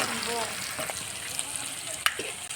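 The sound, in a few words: onion and chilli frying in hot oil in a wok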